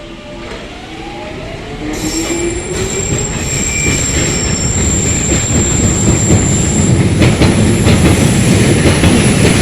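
DLR trains pass through Canning Town station with a loud, building rumble and clatter of wheels on rails, long high squealing tones from the wheels, and steady rolling noise as the cars go by close.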